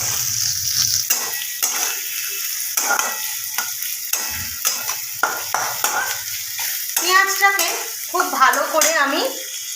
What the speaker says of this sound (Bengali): ভেজে নেব পেঁয়াজটা অনেকটা নরম হয়ে এসছে